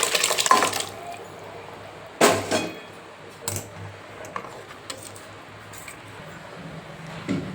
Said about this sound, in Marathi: मी आता याच्यामध्ये जी आपण मटकी शिजवून घेतली होती ते पाणी ओतून घेऊया